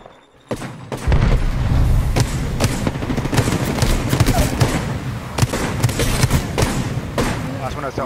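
An Apex Legends firefight with several sharp booms and gunfire bursts, including frag grenade detonations, loud and dense throughout, with voices talking over the action.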